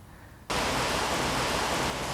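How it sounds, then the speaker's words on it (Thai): Heavy rain starts suddenly after a quiet half-second and pours as a dense, steady hiss that fills the rest of the short stretch, with no voices. "ฝนกำลังตกหนักเลยครับ"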